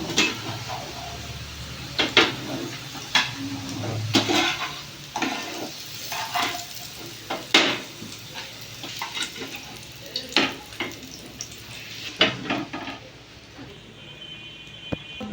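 Food sizzles and fries in a pan with a little salt while a utensil repeatedly scrapes and stirs, producing sharp clattering strokes over the steady crackle.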